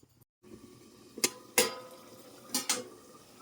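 Metal lid set onto a pot of aloo paneer curry, a few sharp clanks and rattles in a quiet kitchen, with faint bubbling behind.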